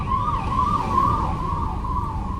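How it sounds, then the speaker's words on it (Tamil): An ambulance siren wails in city traffic, a loud, wavering tone sweeping up and down over the rumble of road noise as the vehicle approaches from the opposite direction. "இப்போ பாருங்க, ஆப்போசிட்டில் ஒரு ஆம்புலன்ஸ் வருது, சவுண்டு கேட்குது"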